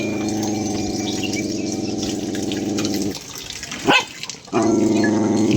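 A dog on a farm with buffalo and chickens barks loudly in a few sharp bursts near the microphone, with a steady running-water or machine hum underneath that cuts out briefly and returns.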